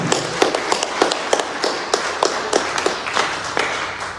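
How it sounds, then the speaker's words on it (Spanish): A church congregation claps for the Lord during a sermon, giving scattered, uneven claps across the room at moderate loudness with no talking over them. "¿Hay alguien que pueda dar un aplauso al Señor?"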